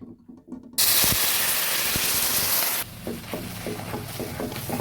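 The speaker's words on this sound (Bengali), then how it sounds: "এবার আমি এই ক্যারামেলের মধ্যে দিয়ে দেব সামান্য একটু দুধ" A splash of milk hits hot caramel made from sugar for lachcha semai, bursting into a loud, close hiss and spray of steam that holds steady for about two seconds, then settles into quieter bubbling and stirring.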